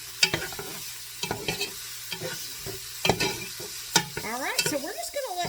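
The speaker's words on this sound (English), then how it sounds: "Okay, and then we're just going to mix that around." A spoon stirs chopped onions with salt in a pot, giving several scraping strokes over a soft sizzle, close and clear, ending with a short spoken phrase.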